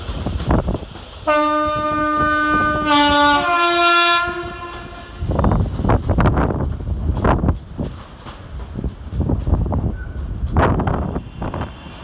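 A Class 350 electric unit, 350 253, departs Crewe station, sounding a loud two-tone horn before its wheels clatter and motors hum over the rails, close and sustained.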